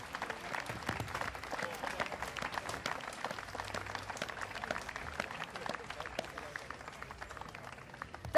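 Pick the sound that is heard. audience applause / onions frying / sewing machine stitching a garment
audience applause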